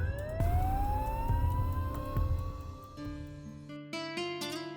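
A police car siren wails in an animated story as a man is arrested, rising in a long sweeping tone, then shifting to a steadier pattern with sharp bursts near the end, loud and alone.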